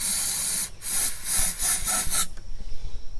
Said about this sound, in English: We're going to spray a little starting fluid in it. In order to do that, just put it right into the carburetor hole.